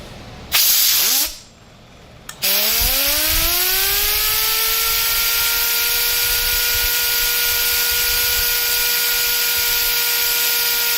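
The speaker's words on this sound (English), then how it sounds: "I'm going to let the turbo stop, and I'm going to wipe off the oil here, and then we'll spin it up one more time" A turbocharger on a test setup spins up after a brief hissing burst, its rising whine settling into a steady, loud, high-pitched tone that holds to the end.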